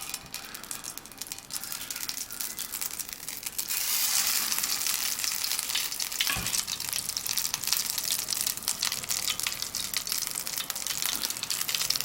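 Backpacker potato cake patties sizzle and crackle in a pan over a camp stove, a steady bright frying hiss that swells louder after the first few seconds and keeps up throughout, with a brief dull knock partway through.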